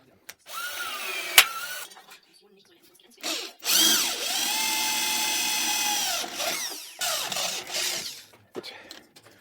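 A power tool, likely a drill driver, tightens fasteners on a bicycle trailer frame in short bursts: a brief whir, then a longer sustained whine with rising and falling pitch, followed by shorter pulses, close and loud.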